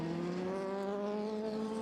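A Ferrari race car at the 24 Hours of Le Mans drones steadily at high revs, a sustained loud engine tone that stays level throughout with no pauses.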